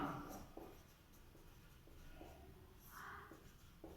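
Chalk or marker on a classroom board during a lecture, faint scratchy strokes in short bursts with pauses, quiet and slightly distant in a room.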